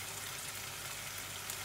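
Chicken pepper fry, Anglo-Indian style, simmering and sizzling in its own released juices in a pan, giving a steady, soft, close frying hiss with fine crackle throughout and no voices.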